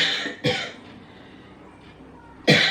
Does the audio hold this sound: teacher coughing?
yes